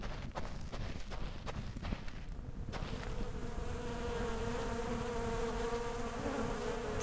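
Mosquitoes buzz in the survival video game Starsand, a steady, thin, droning whine that rises over scattered clicks and footsteps and holds continuously to the end.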